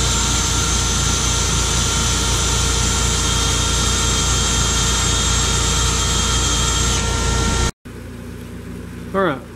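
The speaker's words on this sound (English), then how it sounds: "So let's get the lathe going" Wood lathe running during restoration of a wooden bowl, a loud steady motor whine with fixed tonal hum holding constant for about seven seconds, then cutting off abruptly, followed by quieter room sound and a brief voice.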